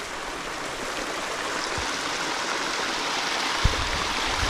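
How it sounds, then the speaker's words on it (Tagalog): A strong flow of spring water rushes in a stream near a small lake under construction, a loud, steady broadband gush with a couple of brief low thumps and no talking. "Laka ng tubig, oh."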